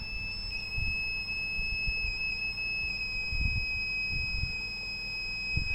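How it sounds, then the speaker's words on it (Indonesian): A rain detector alarm sounds a steady electronic tone with two high pitches continuously, with faint low rustling and handling noises underneath. "Ini alarm bahwasanya hujan turun, gitu ya."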